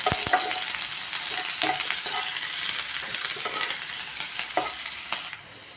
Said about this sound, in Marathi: कांदा पण हा मोसर होईपर्यंत परतून घ्यायचा आहे